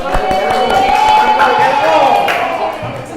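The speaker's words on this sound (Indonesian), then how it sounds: "Tepuk tangan untuk yang udah sampai finish." Applause from a group for participants reaching the finish of a game, steady clapping with some crowd noise throughout, fairly loud and close.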